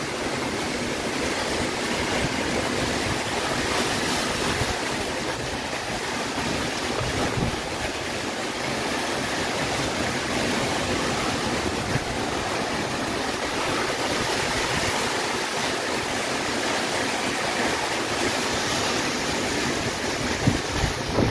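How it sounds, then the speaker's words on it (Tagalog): Very strong typhoon wind roars steadily and loudly, a dense unbroken rush with occasional gusting buffets, and no voices. "sobrang lakas na ng hangin"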